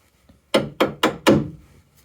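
Four quick hammer taps in a row on metal, sharp and close, ringing slightly, with a faint tap just before them, tapping a nut down on a 1994 Jaguar XJS V12.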